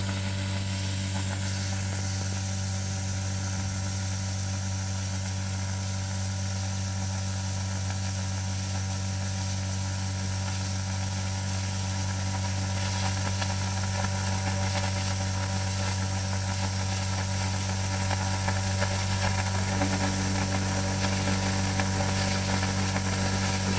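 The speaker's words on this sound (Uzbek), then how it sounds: "Motor ovozini eshitib" A 2.2 kW, 220 V universal grain crusher motor running at 3000 rpm, used for milling wheat, hums loud and steady with a constant mechanical whine throughout, with no talking.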